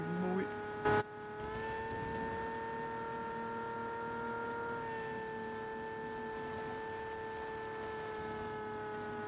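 A Lamborghini engine in a video game holds a steady tonal whine after a sharp burst near the start, with the pitch stepping up once and later dipping slightly. A voice talks over it.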